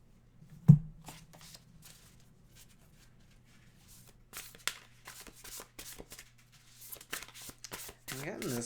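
A Circle of Doors tarot deck is shuffled by hand in quiet, papery bursts that grow into a dense riffle of card edges toward the end, with a voice speaking now and then.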